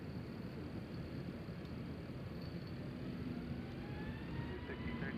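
An Aer Lingus airliner passes at windy Nashville International Airport, a steady broadband engine roar with a slowly shifting whine, held at a constant level under wind noise throughout.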